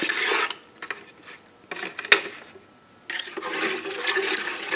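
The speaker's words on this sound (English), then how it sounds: "I'm going to take my spoon and stir that up" Spoon stirring kiln shelf primer powder into water, giving close wet scraping and swishing in bursts with a brief sharp knock against the container midway, separated by short quiet gaps.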